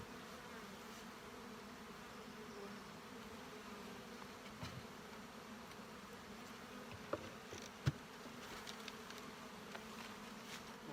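Honey bees buzz steadily around an open brood-nest hive with mature larvae and plenty of pollen, a dense continuous drone close by with a few brief louder passes, and no talking.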